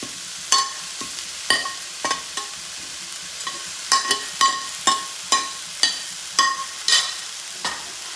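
Chopped beetroot pickle being stirred in a hot pan, a spoon scraping and knocking in a steady series of sharp strokes over a light sizzle, close and clear with no talking.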